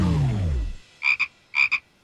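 A large frog croaks in an animated children's show, two paired bursts of close, loud rasping croaks after a falling sweep of sound.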